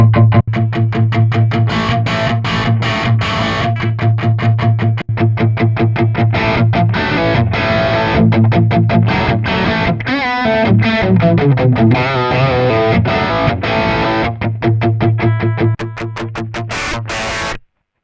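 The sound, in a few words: electric guitar through speaker cabinet simulator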